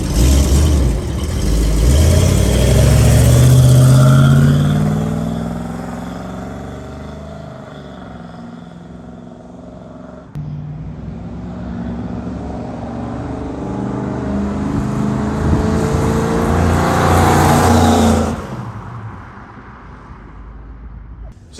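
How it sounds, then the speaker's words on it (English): 1967 Ford Country Sedan station wagon driving around a block, an engine that swells as it approaches, fades, then builds again before dropping away, with speech faintly mixed in. "So you saw us drive the car."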